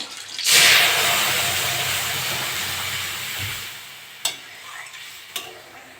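Green chilies hit hot oil with panch phoron five-spice for papaya dal, setting off a sudden loud burst of sizzling that settles into a steady hiss, broken by two brief clatters near the end.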